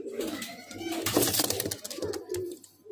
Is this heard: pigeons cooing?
yes